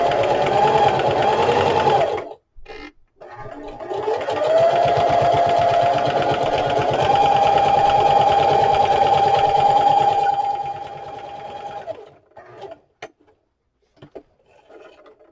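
A sewing machine running a straight stitch in short bursts, then one long steady whirring run of about eight seconds before stopping, close and alone.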